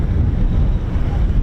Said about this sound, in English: Feels like about 30 miles an hour gusting winds at the minute.